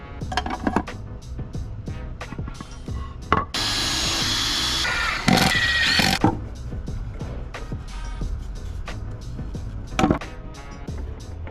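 A power drill whirs for a few seconds at a time, driving 2.5-inch wood screws into a glued 2x4 frame for a miter saw station, amid knocks and clatter of wood being handled close by.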